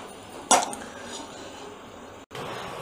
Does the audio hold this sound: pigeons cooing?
no